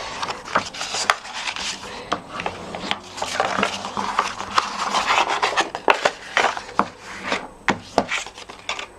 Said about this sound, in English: I have my bone folder and I'm just going to burnish those score lines so that you can see them